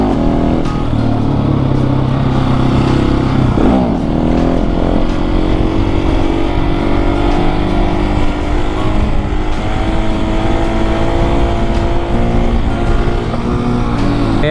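A KTM 701 Supermoto single-cylinder motorcycle drones loudly and steadily while ridden at speed, its engine note rising and falling slightly beneath constant wind rush.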